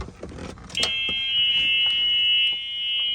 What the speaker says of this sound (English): Now I'll show you where reverse buzzer's at.